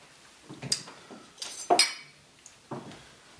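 A bar spoon clinks against ice and glass while a Benton's Old Fashioned is stirred, with a few sharp bright chinks and taps spaced over a few seconds, close up and with no talking.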